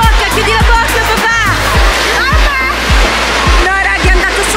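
Waves slosh and splash continuously in an indoor wave pool at a winter water park, loud and close, with excited voices and children shouting over the water.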